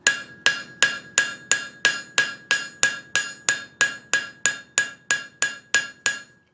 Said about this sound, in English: We're going to be coming here now and taking a small cross peen